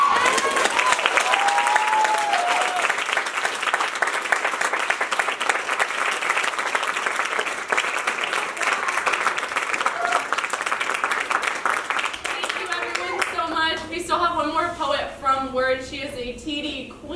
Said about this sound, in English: Please clap it up all the way to the stage